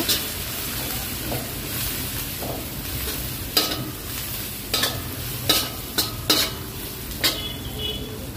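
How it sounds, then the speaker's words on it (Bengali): Onions and garlic stirred and fried in a pan for a crab dish, a steady low sizzle broken by several sharp scrapes and clinks of the spoon against the pan, close and fairly loud. "দেওয়ার পরে বেশ কিছুক্ষণ আমি একটু নেড়ে নিব"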